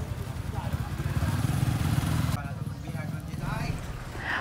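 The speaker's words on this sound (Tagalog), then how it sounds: "Yung mga motor na yan na nakikita natin na paakyat, magaling na po yan sila doon sa baba." Motorcycles labor uphill on a road near a waterfall spot, a steady close engine drone that drops away partway, with people talking over it.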